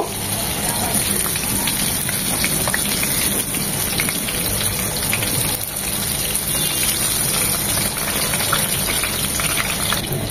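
Fish sizzle and crackle steadily in hot oil for an Andhra-style fish curry, a dense continuous frying hiss with small pops throughout and no clear pauses.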